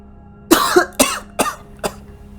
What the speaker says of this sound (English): Did she cough or did you cough? She coughed.